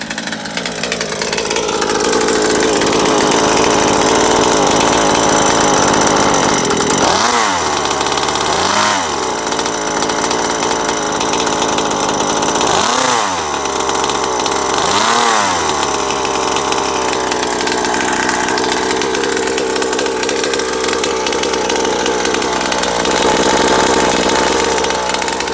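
A petrol Rovan Baja Max T RC car engine runs loudly and steadily throughout, with several sharp revs around the middle rising and falling in quick bursts over a continuous buzzing idle.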